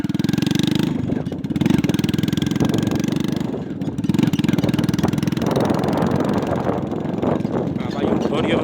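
A vehicle engine runs with a steady, loud drone and rises at times into revs, close by throughout. Voices talk over it in places.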